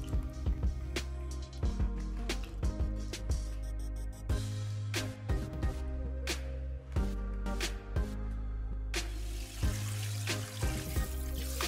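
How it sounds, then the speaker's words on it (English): Beef tripe being rinsed under a running kitchen tap after soaking in milk, a steady stream of water with repeated splashes, squelches and handling knocks close by, no talking. "remove the tripe from the milk and wash it."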